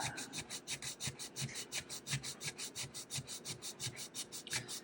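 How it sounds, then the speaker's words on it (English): Steady rhythmic rasping of sandpaper rubbed by hand back and forth along the grain of a kit guitar's wood, quick regular strokes, close and fairly quiet. "Trying to sand it, going with the grain as best as I can here."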